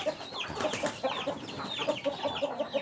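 Many black chickens cluck and chatter together in a busy henhouse, with repeated short clucks over a steady, close-up flock murmur.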